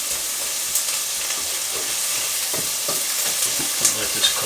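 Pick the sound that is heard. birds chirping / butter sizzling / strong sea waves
butter sizzling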